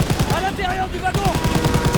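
Loud machine gun fire in Call of Duty WWII during a train assault, steady rapid bursts close up, briefly broken by shouted voices before the firing resumes.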